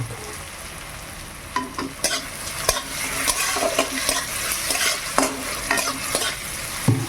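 Onion and tomato fry with salt in a pan, a steady sizzle broken by sharp scrapes and clacks of a spatula stirring, close up with no talking.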